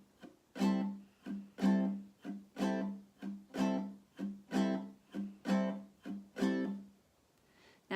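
Jazz guitar strummed in a basic pattern with palm muting, giving a steady rhythmic run of percussive muted chord strokes, close and moderately quiet, roughly two strums per second with no voices.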